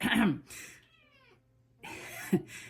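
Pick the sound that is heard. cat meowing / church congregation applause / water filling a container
cat meowing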